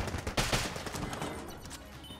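Enemy gunfire in the video game Enter the Gungeon, a rapid, fairly faint clatter of overlapping shots that crackles densely before thinning out, with no speech.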